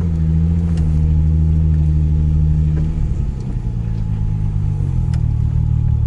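A VW Golf 3 VR6 Turbo running close by, a loud steady low engine rumble that shifts pitch partway through as the car pulls slowly forward.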